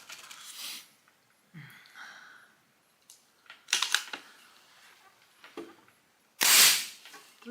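A Pinty .22 calibre PCP air rifle fires once with a sharp, loud crack near the end, after several softer clicks and handling noises in cold outdoor conditions.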